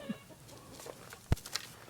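A few soft chicken clucks and scattered farmyard noises at moderate distance, with one sharp knock partway through; no talking.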